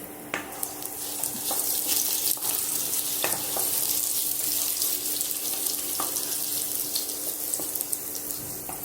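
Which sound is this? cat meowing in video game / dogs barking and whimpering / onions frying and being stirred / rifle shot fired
onions frying and being stirred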